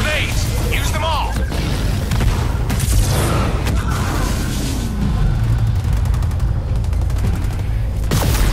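Rapid gunfire and booming grenade explosions in the video game Halo Wars 2, dense and loud throughout, with bursts of automatic fire and heavy blasts layered over shouted battle voices.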